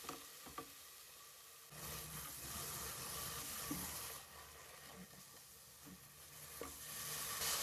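Ingredients for mutton leg soup fry in a pan with a steady, faint sizzle, broken by a few soft clinks of stirring, and no voices over it.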